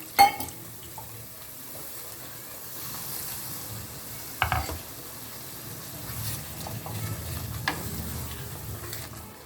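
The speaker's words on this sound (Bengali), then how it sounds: "এইবার আমরা এই যে কন্টেনারে পেঁয়াজ আর টমেটো বেটে রেখেছিলাম সেটা ঢেলে দিচ্ছি এবং এর সাথে একটু অল্প জলও দিচ্ছি" Onion-tomato paste and a little water go into a hot pan for chana masala, giving a low sizzle with a few sharp clatters and pours, moderately quiet and close, with no talk.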